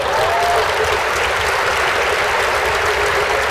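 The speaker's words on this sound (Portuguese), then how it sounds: "vou transmitir para ele esse aplauso que eu sei que é para ele" Steady audience applause from a large crowd at a university lecture, a dense, continuous patter of clapping hands that stays even and loud throughout.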